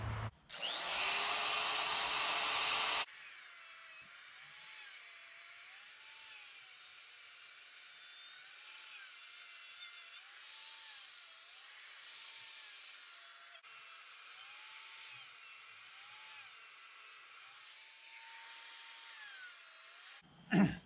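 A Sabertooth Buzz Out rotary tool cuts out wooden letters, beginning with a loud whine, then a steady, cyclically wavering buzz of the bit grinding through wood, close and continuous until it stops.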